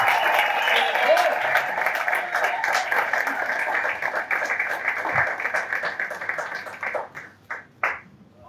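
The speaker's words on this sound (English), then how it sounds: "A thunderous round of applause." A seated audience at an entrepreneurship talk breaks into sustained applause to welcome a speaker to the stage, a thick wash of clapping that thins toward the end into a few scattered final claps.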